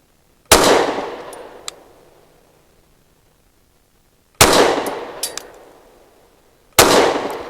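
Three sharp, loud gunshots from a Canik METE MC9 9mm pistol firing Hornady American Gunner 115-grain rounds, each crack trailing off into a ringing outdoor decay, the first two spaced widely and the last following quickly, with no talking.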